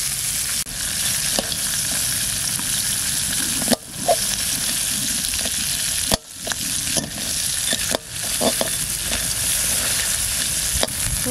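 Pieces of red paddy-field crab fry in a pan with a steady, loud sizzle, broken now and then by sharp scraping stirs.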